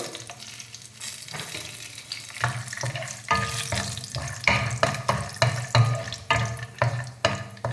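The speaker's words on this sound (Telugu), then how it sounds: "కొద్దిగా వేగనండి చిలికాయ పప్పులు తర్వాత శనగబెడ వేసుకోండి" Cumin, chana dal and peanuts fry in oil for grandmother-style pulihora, crackling steadily up close, then growing louder and busier with repeated stirring scrapes and bursts of sizzle, no speech over it.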